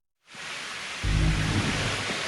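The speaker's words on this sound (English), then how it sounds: "I think this is just getting all the rain out before the World Cup final tomorrow. The rain is actually horizontal at this point" Heavy, wind-driven rain pours down, with the dense hiss starting abruptly and then thickening into a deeper, roaring wash that holds loud and steady throughout.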